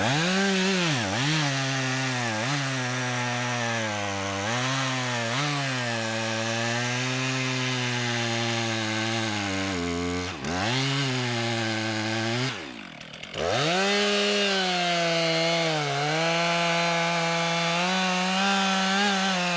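A chainsaw fitted with an Oregon 72LG chain cuts dried oak firewood, its engine a loud, sustained whine that rises and dips under load, briefly dropping off near the end before revving back up.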